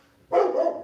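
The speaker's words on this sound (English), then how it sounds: "Can you guys hear my dog barking?" A dog named Dracula gives a single sharp, loud bark close by, short and clear with nothing else behind it.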